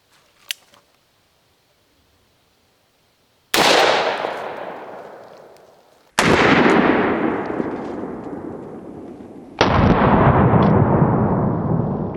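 A .44 Magnum revolver fires into cheap eBay body armor: three loud, sharp gunshots follow a faint click, each booming blast ringing out into a long decaying echo.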